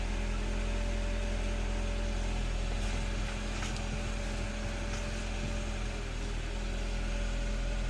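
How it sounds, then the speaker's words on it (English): A BMW engine idles at a dealer auction, a steady low hum running throughout with faint shifts that fit a slightly rough, uneven idle. "don't sound horrible, but it is a little, that idle going a little up and down, a little rough"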